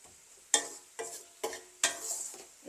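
Kohila stem fries in oil in a pan while being stirred, with five sharp scraping strokes spaced roughly half a second apart over a faint sizzle, close and fairly quiet.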